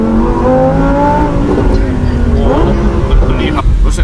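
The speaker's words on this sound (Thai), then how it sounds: "โอ้โหสตาร์ททีนึงนะฮะ STO เสียงดังจริงครับ" A Lamborghini STO's engine roars close and loud, with a rising rev, a dip and another surge of revving, while people talk over it.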